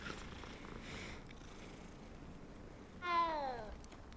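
A cat in the video game Hogwarts Legacy purring softly and steadily, then giving one clear rising meow near the end, faint and close.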